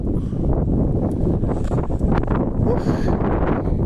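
Steady typhoon wind buffeting close to the microphone on a countryside farm, a constant low rumble with faint rustling throughout, no clear pauses.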